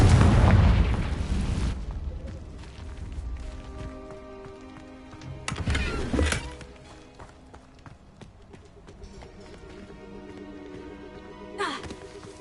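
Fire spells explode in the PS5 game Hogwarts Legacy: three loud, booming bursts spaced several seconds apart over soft background game music.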